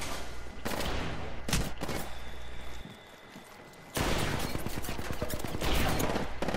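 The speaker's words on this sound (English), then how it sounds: "He's not gonna stop shooting." Apex Legends gunfire: loud, dense rapid-fire bursts crackle early on, drop away for about a second, then return as sustained heavy shooting to the end.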